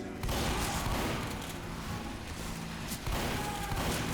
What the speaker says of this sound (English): die anyway from random loose cannon fire